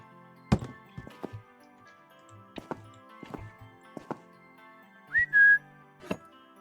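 A player character whistles in a video game: one short rising whistle that holds a steady high note, standing out loud and clear over quiet in-game tapping and thudding sounds.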